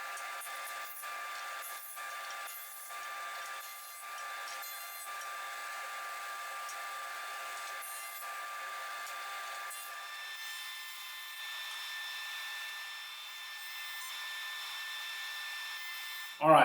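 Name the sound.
thickness planer running on wooden offcuts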